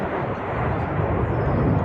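Red Arrows aerobatic jets trailing red, white and blue display smoke at the English Riviera Airshow 2025, giving a steady, loud broadband engine roar that holds constant throughout without breaks.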